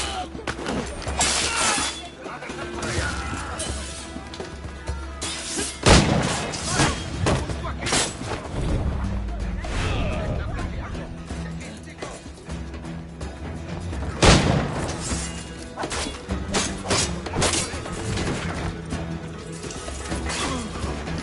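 Cannon fire during a naval battle in the video game Assassin's Creed IV: Black Flag: repeated heavy booms and crashing impacts amid dense, chaotic battle noise, with voices speaking at times.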